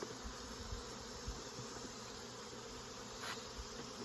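Dense, steady buzzing of many honeybees swarming close by around an open hive during a Varroa mite check, a constant hum with no voices.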